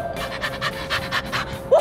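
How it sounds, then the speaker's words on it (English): A dog pants in quick, rhythmic breathy bursts, steady and close, with a brief whimper-like sound near the end and no talk. "It's a dog!"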